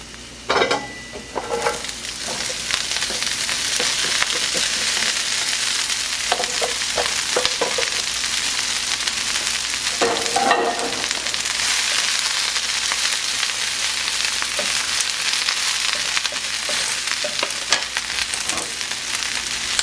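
Coarsely chopped cabbage stir-frying in a pan for teriyaki chicken chow mein, a steady loud sizzle with repeated scraping stirs throughout and no talk.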